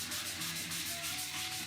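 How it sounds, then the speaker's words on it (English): Faint, steady rubbing strokes of sandpaper work over the wooden body of a DIY Les Paul guitar kit in a brief, continuous stretch. "once I'm done sanding this here"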